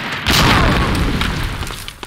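A grenade blast in the multiplayer shooter Medal of Honor Allied Assault: one loud, close boom hits sharply, then rolls off into a rumbling decay over about two seconds, with no talk.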